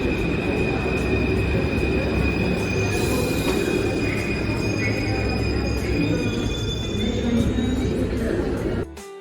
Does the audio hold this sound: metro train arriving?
yes